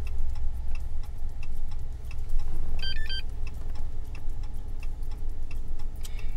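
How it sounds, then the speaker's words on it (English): A simple key programmer plugged into the OBD2 port of a Dodge, Chrysler or Jeep gives a quick cluster of short, high electronic beeps over a steady idling-engine hum and a regular, clock-like ticking. "it gave 3 quick beeps"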